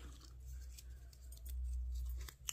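Scissors snip through handmade gel-printed junk journal paper, cutting out tabs and tags in a steady run of close, crisp cuts with no talking.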